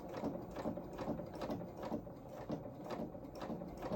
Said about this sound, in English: We're then just going to sew along that edge again, keeping to that curve.